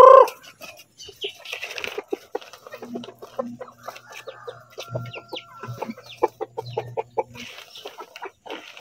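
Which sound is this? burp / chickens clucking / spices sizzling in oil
chickens clucking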